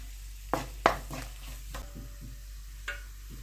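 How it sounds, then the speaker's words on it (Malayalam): Spoon stirring chili and turmeric powder in a pan for Kerala-style cherupayar (green gram) curry, with a few soft scraping knocks and a faint sizzle, quiet and close, no talk. "ഇനി നമുക്ക് ഈ പൊടിയുടെ പച്ചമണം മാറുന്ന വരെ ഒന്ന് ഇളക്കി കൊടുക്കാം."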